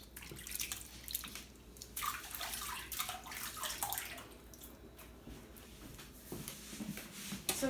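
Running water from a sink tap splashing as sticky, dough-coated hands are rinsed clean while shaping buns, a steady wash with small bursts and drips, fairly close and moderately loud.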